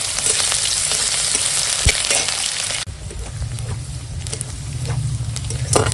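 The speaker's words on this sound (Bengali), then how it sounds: "তেল গরম হয়ে গেছে দিয়ে দিলাম পেঁয়াজটা ভেজে নেবো" Onion, crushed garlic and green chili drop into hot oil and fry with a loud, dense, steady sizzle, close up, with a brief clatter of stirring partway through.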